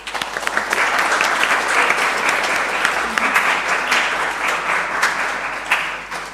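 Audience at a Europe Day event applauding after a speech, a steady, dense wash of many hands clapping at moderate distance that holds for several seconds before easing off.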